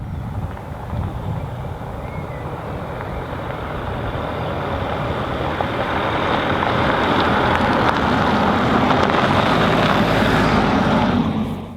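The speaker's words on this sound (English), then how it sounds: "So guys, let's go with our drive for today. And the earlier 2-liter TDI is here on right now." An Audi Q5 SUV with a 2.0-litre TDI diesel engine driving, heard as a loud, steady engine and road rumble that builds gradually and holds, with no talk, before fading at the very end.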